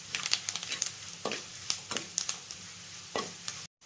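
Ginger and curry leaves frying in a pan for fish curry, soft sizzling with a series of sharp stirring clinks and scrapes close up, no talking.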